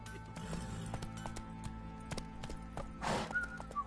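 Roach the horse gallops in The Witcher 3, with quick rhythmic hoofbeats over faint background music and a short whoosh near the end, all fairly quiet.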